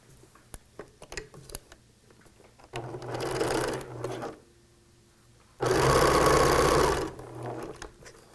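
A sewing machine joins quilt blocks in two short bursts of close, buzzing stitching separated by a pause, with light handling taps and clicks before and between runs.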